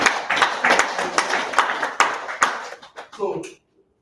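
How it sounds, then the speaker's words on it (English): Audience clapping for a man at a money and mentorship masterclass, a scattered, uneven burst of claps with voices talking over it before it stops abruptly. "Clap for him now."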